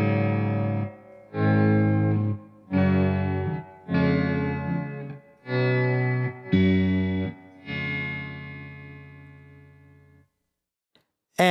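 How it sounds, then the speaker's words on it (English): Electric guitar chords swell in and fade through a Morley volume pedal, about seven times in a slow rhythm, each rising smoothly from silence before a final long fade. "Let's begin by hearing it as a regular volume pedal."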